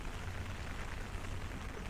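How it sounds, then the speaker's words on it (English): Steady rain falls at Keyhaven on the seaside shore as the tide comes in, a soft, even hiss of drops with no breaks, alone and fairly faint. "it's raining"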